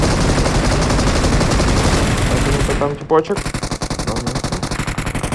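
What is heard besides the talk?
gunfire in video game PUBG Mobile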